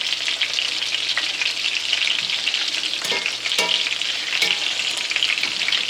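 Meat frying on medium heat in a pan with bacon grease or tallow, a dense, continuous crackling sizzle with a few sharper pops and stirring scrapes, close and loud, no voices.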